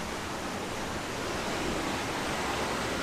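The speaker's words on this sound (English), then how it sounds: "Nice little bit of waterfall there with some logs." A small waterfall among logs at Golitha Falls, St Cleer, Cornwall, rushing steadily and evenly at close range with no other sounds.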